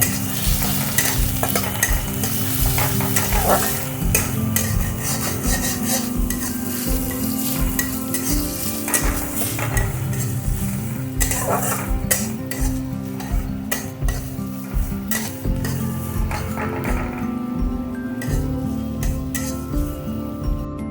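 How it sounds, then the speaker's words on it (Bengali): Chopped onion stirred and frying in hot oil in a pan, a steady loud sizzle with repeated scraping and clinking of the spoon against the pan throughout, no voices. "একটু ভাজা ভাজা করে নেবো"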